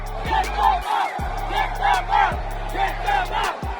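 A stadium crowd at a boxing match jeers and chants in rhythmic, repeated loud bursts, with chanting voices rising and falling every half second or so.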